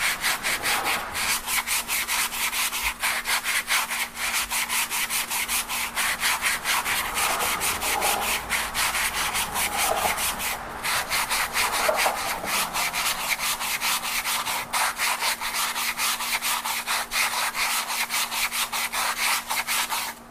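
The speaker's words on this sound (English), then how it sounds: "The sanding could be done with a hand sander." Wood for a bench is sanded by hand in quick, steady back-and-forth strokes, a close, continuous rasping rhythm over a faint electrical hum, with no talking.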